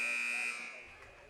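An end-of-quarter buzzer at a girls high school basketball game sounds as one loud, steady electronic tone for about half a second, then its echo dies away in the gym.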